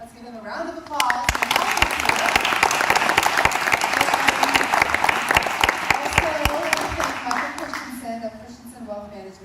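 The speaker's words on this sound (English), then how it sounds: "Let's give them a round of applause." Audience applause for CrossFit 970 at a presentation, a dense sustained burst of clapping from a crowd that swells quickly, holds loud for several seconds, then tapers, with voices talking over it.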